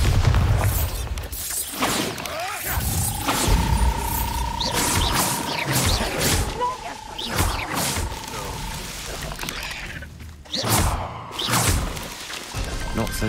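Bombarda spell blasts in Hogwarts Legacy, heavy booming impacts and crackling bursts over a busy, noisy battle backdrop, with a sustained whistling tone sweeping through the middle and several sharp hits near the end.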